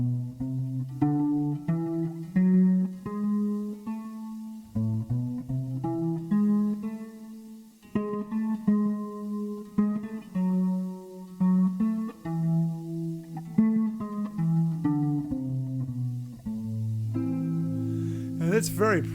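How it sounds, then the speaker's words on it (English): Guitar plays a minor major seventh scale in A, with a steady run of plucked notes stepping up and down over about nineteen seconds, clear and close. "It's a minor major seventh scale"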